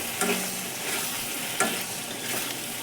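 Fish and potatoes fry in oil in a covered pan. A steady close sizzle is broken by two sharp spoon stirs, with no voices.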